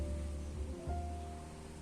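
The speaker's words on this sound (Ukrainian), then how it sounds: "Е, марасить, маленький дощ." Light summer drizzle at a countryside cottage, a soft continuous patter of rain with low rumbling background, steady and faint throughout with no talking.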